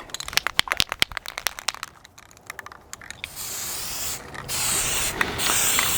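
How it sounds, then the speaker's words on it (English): Crack-detection developer is sprayed lightly from a shaken aerosol can onto an engine cylinder head. Quick clicks and rattles come first, then steady close hissing bursts of spray. "and then you spray it on lightly."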